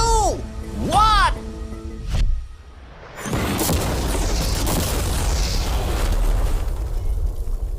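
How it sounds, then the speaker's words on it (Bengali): A test car is blown up in a deliberate explosion, and a deep boom rolls into a long rumbling roar and debris wash that fills the rest of the moment, following short voiced sounds at the start. "বিস্ফোরণটা এত জোরে হয়েছে যে ভিতরের ম্যানিকুইন গুলো ছিটকে এদিক ওদিকে বেরিয়ে গেছে।"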